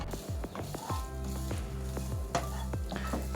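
A mixture browning in a pan for pizza cutlets, giving a steady close sizzle with repeated scraping strokes of a spoon stirring through it, no voices.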